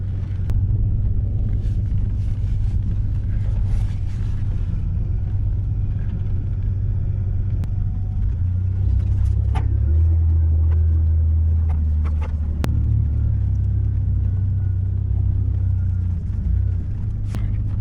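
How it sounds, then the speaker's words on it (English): A car that has just had a locked-up brake freed is being driven, its engine and road noise making a steady close rumble inside the cabin for the whole stretch, with a few faint clicks and no talk. "This thing's actually driving normal as far as I can tell."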